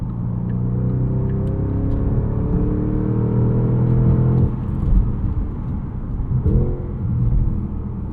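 A 2025 Porsche Panamera GTS with a twin-turbo V8, driven in manual mode with paddle shifters, revs up in a steady rising drone, then a shift drops the pitch, and it climbs again, loud and close from the cabin.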